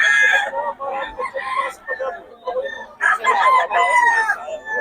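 Several roosters crow in quick succession, loud and close, with overlapping cock-a-doodle-doo calls and some clucking running through the whole stretch.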